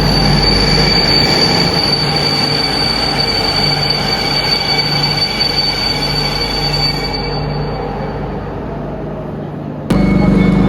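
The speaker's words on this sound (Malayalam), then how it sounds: "ഇപ്പം ഞങ്ങളിവിടെ നിൽക്കുന്നിടത്ത് ബാക്കിലായിട്ട് തന്നെ കാണുന്നുണ്ട് ഒരു ഡബിൾ ഡെക്കർ ട്രെയിൻ ഉണ്ട്." A double-decker train in Serbia runs past close by, with loud continuous rolling rumble and sustained high-pitched wheel squeal that eases off before a sudden burst of noise near the end.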